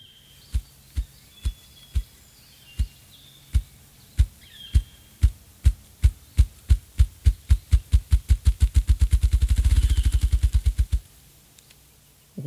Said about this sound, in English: That is the sound of a ruffed grouse.